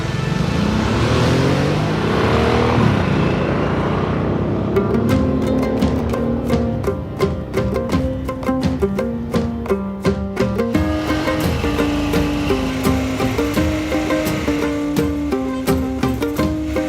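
Harley-Davidson Sportster S motorcycle from 2021 charging out of corners, its engine roaring loud and close, revving up through rising pitch sweeps with quick shifts and repeated throttle bursts.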